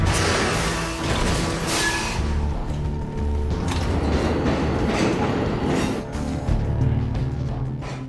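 A subway train from Pelham 123 slows and halts, mechanical creaks, rumbles and grinding metal filling the whole span at steady loudness, with low rolling tones and scattered clanks.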